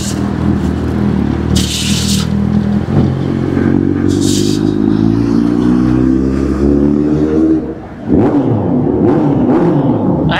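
A motorcycle ridden through an underpass, its engine a steady, loud droning hum with rising and falling pitch throughout, dipping briefly near the end before picking up again.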